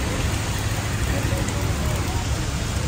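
Heavy rain pours down in a dense, constant hiss that fills the whole moment without a break, with no distinct voices standing out.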